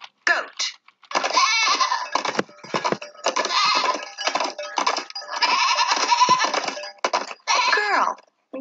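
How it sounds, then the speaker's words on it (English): A goat bleats repeatedly in a series of wavering, voice-like cries with short pauses between them, loud and close. "Goat."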